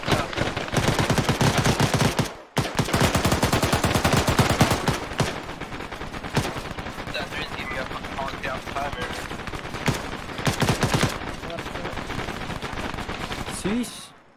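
Rapid bursts of automatic gunfire from an Arma 3 firefight fill the scene, loud and dense with a brief pause early on, while voices talk over the shooting.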